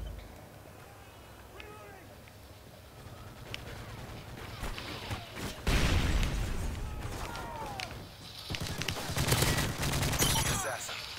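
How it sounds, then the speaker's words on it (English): Call of Duty style gunfire and explosions as a Predator missile strike lands in a video game, with bursts of automatic fire, a loud blast near the middle and more rapid shots after, alongside game voices. "Friendly Predator missile inbound."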